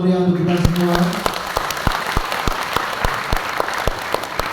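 Audience clapping at a public gathering in Kediri, Indonesia, a sparse, uneven patter of close individual claps following a voice over a loudspeaker at the start.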